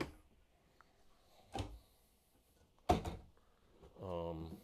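Two wooden knocks and a sliding thunk as a dovetail drawer in a 2026 Renegade Classic 45 motorcoach is pulled open, then a brief voiced sound at the end in an otherwise quiet room.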